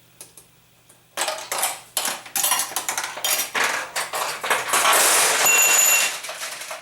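Metal pachinko balls rattle and clatter through a Nishijin pachinko machine, a quiet start giving way to dense, bright, rapid ticking and pinging that builds into a steady metallic cascade, close up.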